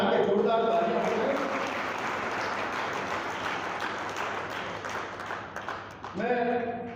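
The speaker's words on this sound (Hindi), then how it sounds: "आप अपने लिए एक बार दोनों हाथ उठा के जोरदार तालियां बजाएं।" Sustained audience applause at a Hindi comic poetry gathering in Haridwar rolls on steadily at moderate loudness, with brief voice-like tones at the start and again near the end.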